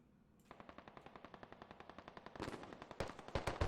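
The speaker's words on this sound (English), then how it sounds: "MG opening up" A crew-served machine gun in a video game opens up in a fast, even burst of rapid shots, starting abruptly after a moment of quiet and growing louder and harsher toward the end.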